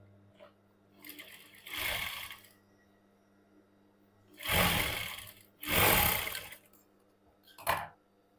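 A sewing machine runs in short separate bursts, stitching pocket parts of cigarette pants, with four whirring runs of a second or so each and quiet gaps between them.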